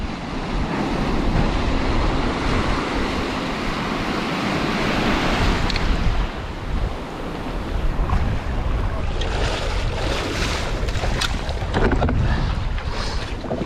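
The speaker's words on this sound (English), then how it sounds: "We got some rollers coming in. Got Inglorious foraging away. Nice. What a day. Big wave." Big ocean rollers crash and wash over rocky tide pools on the coast, a loud continuous roar of surf with surging breaks and fizzing foam, wind noise mixed in.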